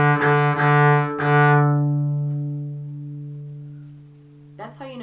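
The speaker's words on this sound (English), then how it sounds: "if I release, you'll hear the cello ringing" A cello's open strings are bowed a few times, then left to ring on after the bow lifts, a sustained resonant tone slowly fading alone until a faint voice breaks in near the end.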